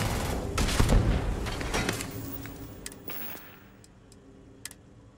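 Rapid bursts of 11mm gunfire in a video game, loud and dense early on, then thinning into scattered mechanical clicks and ticks as the ammo runs out.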